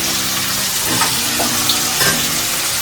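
Chicken sautéing with spices in a pan gives a steady, close sizzle, and a few faint scrapes or stirring clinks rise out of it now and then.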